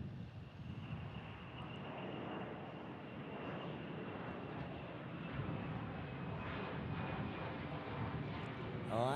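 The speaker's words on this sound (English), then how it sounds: "Okay, that was the quickest takeoff ever." A fixed-wing airplane taking off at Omaha Eppley Airfield, heard as a steady, broad, distant engine roar with some wind noise, continuous throughout.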